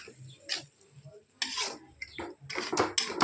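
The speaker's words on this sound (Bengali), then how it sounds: "সাথে একটু জল গুলে দিয়ে দিচ্ছি আলু পোস্ত, ভালো করে নেড়ে দেবো" Aloo posto, a Bengali potato and poppy seed dish with a little water, stirred in a pan over low heat: soft intermittent scraping and clinks of a spoon against the pan, in short bursts with quiet gaps.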